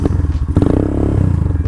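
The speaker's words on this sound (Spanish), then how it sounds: "Tiene un escape muy, muy fuerte." A loud, throaty exhaust from a Vento Screamer 250 Sportivo cafe racer motorcycle rumbles close up in a rough, pulsing idle and rev, with some clattering mechanical noise.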